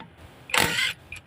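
An automatic impact wrench tightens a nut in one short, loud, rattling burst of about half a second, followed by a faint brief click, all fairly close.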